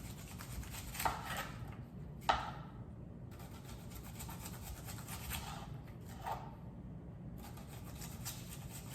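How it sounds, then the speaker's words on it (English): An onion being chopped with a knife for a burger, faint rasping cuts and a few sharper knocks on the board, irregular and quiet, with no voices. "let's go ahead, cut our onion."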